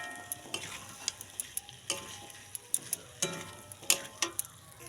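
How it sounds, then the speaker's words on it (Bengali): Kabuli chickpeas frying in spiced oil, a steady sizzle broken by repeated sharp clicks and scrapes of stirring, close and fairly loud with no talking. "এবার আমি এতে দিয়ে দেবো ছোলাগুলো, কাবলি ছোলা।"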